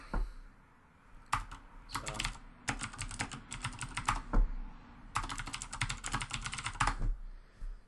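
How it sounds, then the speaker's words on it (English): Rapid clattering keystrokes on a computer keyboard come in several bursts of typing with short pauses, close and clear with no talking. "now I can type stuff into it"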